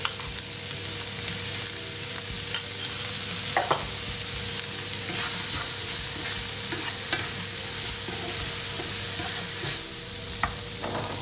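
Asparagus sizzles in a hot frying pan while being stirred, giving a steady fry hiss broken by repeated scraping and clicking strokes of the utensil against the pan.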